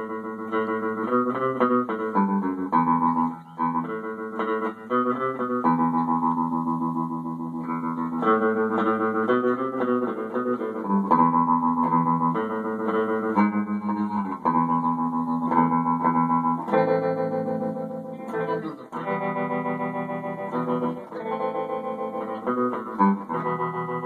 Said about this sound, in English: The amp also has a foot switch for tremolo and reverb, which is handy. So this is max speed,